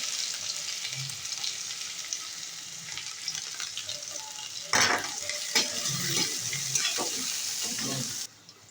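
Chopped garlic hits hot mustard oil in a heated pan, starting as a soft sizzle that jumps to a sharp, louder hiss midway, with a few stirring scrapes before it cuts off.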